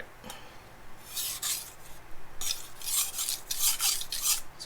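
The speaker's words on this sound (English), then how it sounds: "a typical sharpening session where I will sharpen, then I'll strop on the stone" A Shun Classic chef knife is drawn across a whetstone in rhythmic gritty strokes, close and fairly quiet, the scraping passes coming in quick repeated bursts with brief pauses between.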